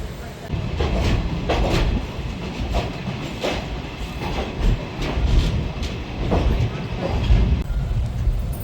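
A train rolls along the rails with a loud, continuous rumble and rhythmic clickety-clack of wheels, heard from inside a carriage.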